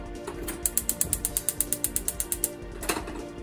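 A gas stove burner igniting on a home kitchen range while cooking peperoncino pasta, a rapid run of about fourteen sharp ratcheting igniter clicks followed by a soft whoosh as the flame catches, close and fairly quiet.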